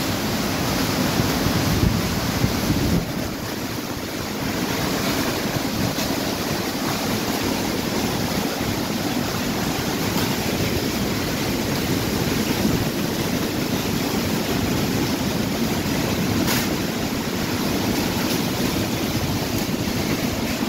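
Typhoon winds roar steadily over heavy sea waves near the coast at six in the morning, a loud, continuous wash of surf and gusting wind buffeting the microphone for the whole stretch, with no voices.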